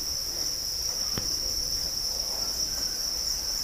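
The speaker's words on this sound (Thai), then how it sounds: "แอบมาเติมอาหารให้จิ้งหรีด" Crickets chirp steadily in a cricket-farming pond at dusk, a continuous high insect trill running throughout with a faint low background hum and no talking.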